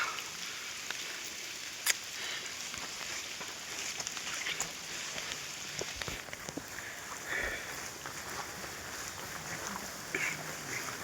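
Steady rain during a monsoon trek up Tikona Fort, a soft continuous hiss of drops with a few sharper taps and patters, faint and unbroken throughout.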